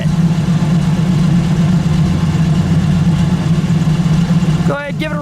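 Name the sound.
1965 Buick Riviera 401 engine idling quietly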